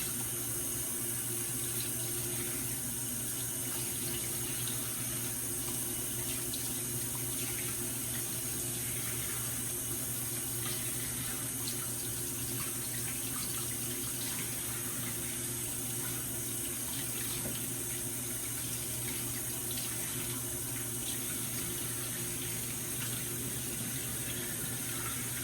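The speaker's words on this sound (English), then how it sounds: "If you rinse them off carefully in the water" A tap runs steadily while eyeglass lenses are rinsed, giving a quiet, even stream of water with no talk over it.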